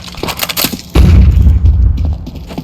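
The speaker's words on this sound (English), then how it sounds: "Flashbang." A flashbang grenade detonates in Counter-Strike during a Vitality vs FaZe match, a sudden loud boom that cuts through crackling gunfire and leaves a heavy, rumbling ringing tail that slowly fades.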